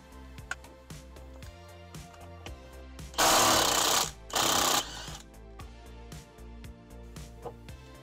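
A power tool loosens the 16mm steering wheel bolt on a 2022 BMW M340i, two loud, close bursts of about a second each, heard over a quiet workshop background with music.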